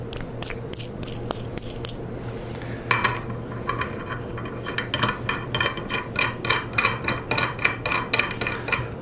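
Metal jam nut being threaded and tightened onto a 3-inch threaded stud on a modular clamping plate, giving a series of sharp metallic clicks and ratcheting ticks that quicken toward the end, close and fairly clear over a steady low hum.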